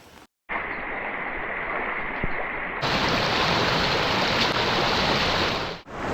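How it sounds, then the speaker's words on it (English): Rushing water of a hidden waterfall in Tujunga, California, heard up close as a steady broadband roar that grows louder and brighter partway through, as if moving nearer the base of the falls. "We have found the waterfall."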